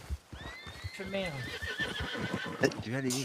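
Horses whinny in a video game, high wavering cries rising over steady overlapping talk in French, with a brief sharp hoof-like knock near the end.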